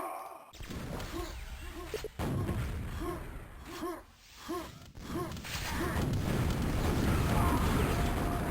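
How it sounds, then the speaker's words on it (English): Big, booming explosions in a competitive team video game match, with several broadband bursts landing amid constant game noise and a voice talking over them. "Big explosions."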